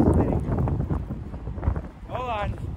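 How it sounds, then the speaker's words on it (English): Strong wind gusts buffeting a microphone outdoors during a storm, low rumbling blasts rising and falling, with a brief whistling tone near the end. "there's some strong gusts coming in"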